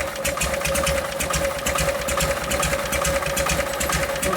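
A 1952 Harley-Davidson FL panhead engine with a Linkert carburetor idles close by in a fast, even mechanical chatter of rapid firing pulses, loud and steady with no talk over it.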